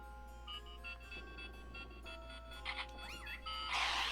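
Wii Remote speaker in Wii Play Motion ghost-hunting game emits faint repeated beeps and electronic tones over a low hum, ending in a brighter burst of noisy chime.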